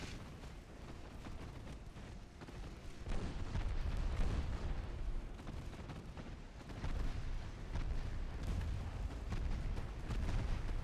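Naval gunfire from warships in the game Ultimate Admiral Dreadnoughts, a dense, continuous low rumble of booming salvos that swells and eases without pause.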